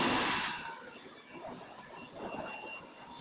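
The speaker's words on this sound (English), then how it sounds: "Then we'll take our pressure washer, pressure wash it off." A pressure washer rinses a car with a loud hissing spray that bursts in at the start, then settles into a steadier, softer rushing wash.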